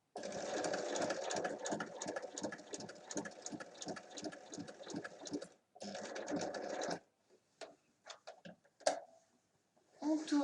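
A sewing machine stitches across the width of a fabric bag handle, running in a rapid steady rhythm for several seconds, pausing briefly, resuming, then stopping, with scattered handling noises at the end.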